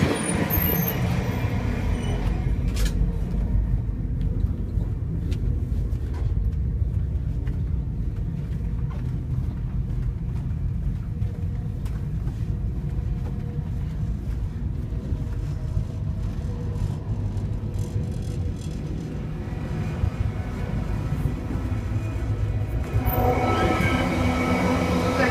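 VIA Rail Canada's The Canadian passenger train rolling along, a steady loud rumble of wheels and carriage noise heard from inside a car, with faint clicks and rattles throughout.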